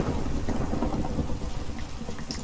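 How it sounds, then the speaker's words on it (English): Minecraft thunderstorm with a heavy, continuous wash of rain and a deep rolling rumble of thunder filling the background throughout. "Oh boy, I hope lightning doesn't strike our house."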